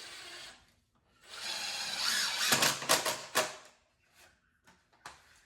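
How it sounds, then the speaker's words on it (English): A power drill with a 9/64 bit pre-drills into wood for a few seconds with rising grinding and rubbing, followed by a few light knocks and clicks. "So I pre-drill with a 9/64 drill bit when I'm using number 9 screws."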